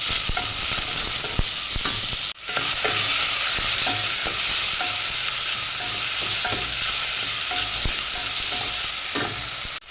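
Tomatoes frying in a pan for a single-serving chicken biryani, with a steady loud sizzle throughout and occasional sharp clicks and scrapes of stirring; no talking.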